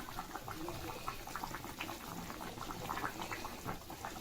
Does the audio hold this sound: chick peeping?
no